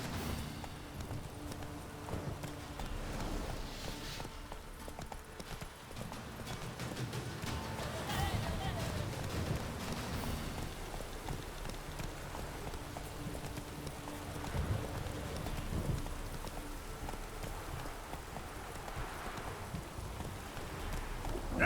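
Roach, a horse in The Witcher 3, trots steadily with rhythmic hoof clip-clops over a wind-like outdoor ambience, moderately near, and a voice speaks briefly over the hoofbeats.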